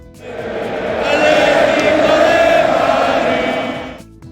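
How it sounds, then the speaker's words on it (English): Atletico Madrid football supporters in the stadium chanting their club anthem with scarves raised, a loud sustained mass of voices swelling and holding before easing off. "the crowd are literally stood with their scarves in the air chanting their club anthem"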